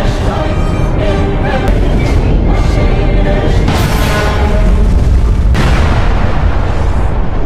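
Repeated heavy booms of cannon fire roll out one after another, loud and dense, blending into a continuous rumbling barrage.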